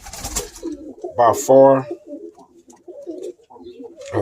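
A red check racing pigeon cock coos several times, soft throaty rolling calls close by, mixed with a voice speaking briefly.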